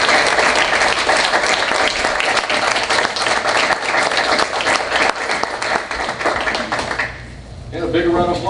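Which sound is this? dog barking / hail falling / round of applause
round of applause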